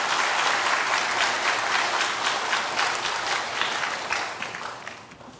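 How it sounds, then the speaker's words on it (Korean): A church congregation applauds steadily for several seconds, dense clapping that gradually fades out at the end. "자, 박수로 환영해 주시기를 바랍니다."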